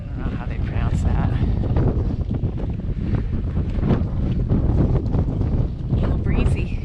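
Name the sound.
wind blowing on West Highland Way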